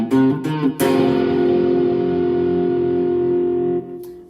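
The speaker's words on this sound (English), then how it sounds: "That sounds much cooler with the fuzz" Electric guitar power chords played through a fuzz distortion pedal: a few quick choppy strums, then one big sustained chord ringing out loud and thick for several seconds before being cut off.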